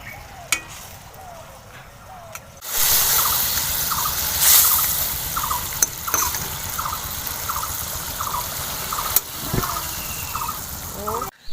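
Leftover chicken curry reheats to a boil in a pot. A quiet start gives way to steady loud hissing and sizzling with a rapid run of small bubbling pops, plus a few sharp clicks.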